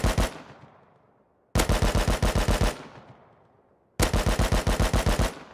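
Rifle gunfire in the game Rust, three bursts of rapid automatic shots fired roughly ten rounds at a time, loud and close, each burst trailing off into a long fading echo with no voices.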